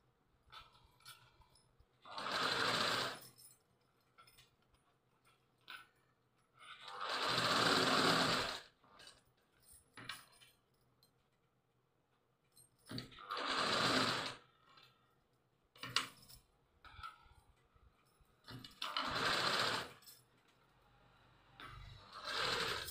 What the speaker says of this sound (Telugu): ఇప్పుడు అవుట్లైన్ కుట్టు వేసేయండి ఇట్లా.